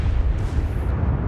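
A deep, rumbling explosion from a torpedo striking a warship in World of Warships, loud and sustained with heavy low-end boom and no voices.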